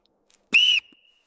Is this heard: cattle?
no